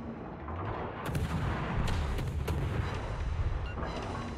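Heavy video game gunfire booms and rattles in a dense, continuous barrage of rapid shots, loud and close with no talking.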